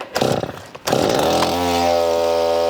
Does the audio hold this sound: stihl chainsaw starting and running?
yes